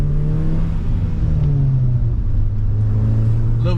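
A manual-transmission car accelerates on a public road during a daily commute, its engine rumbling loud and close with a pitch that slowly rises and falls, no voices over it.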